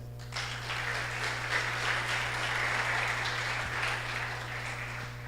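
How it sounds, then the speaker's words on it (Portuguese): A church congregation breaks into steady applause during a sermon, the clapping starting abruptly and continuing evenly over a constant low hum. "Pode aplaudir o Senhor."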